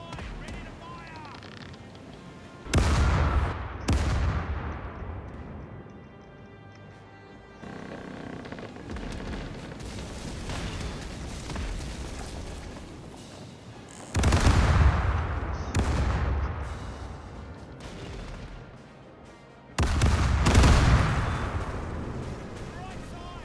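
Ship cannons fire broadsides in the Caribbean Legend game, three heavy booming volleys with rumbling tails separated by quieter stretches, with voices heard between the salvos.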